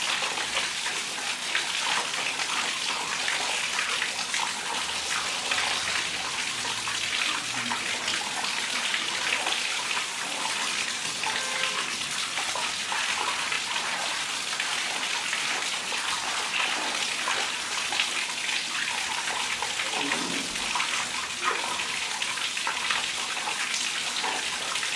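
Running water pours continuously over newly hatched fish fry in a flow-through setup, a steady close splashing hiss like a filling tub, with no voices.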